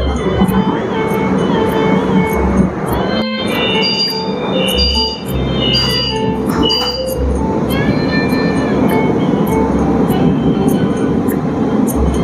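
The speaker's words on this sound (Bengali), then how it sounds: "ট্রেন এখন ছেড়ে দিল।" A Kolkata Orange Line metro train pulls out of Kavi Subhash station, a loud, steady rumble and whine of the moving train with rattling carriage noise and brief voices throughout.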